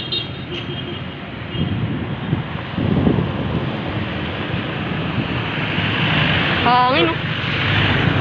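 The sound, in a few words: wind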